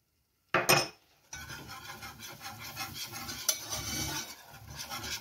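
Flour being whisked into melted butter for a béchamel roux, a sharp clink of a metal whisk against the pan, then steady scraping and stirring that continues to the end.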